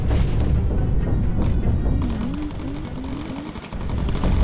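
Machine guns fire during an air battle in the bomber game Bomber Crew, a dense loud clatter of shots with heavy booms, then sharper bursts over a droning engine.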